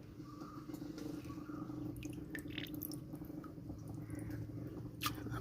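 Water dripping and splashing from aquarium plants lifted out of a guppy and African catfish tank, a steady close wet patter of drips and small squishy splashes.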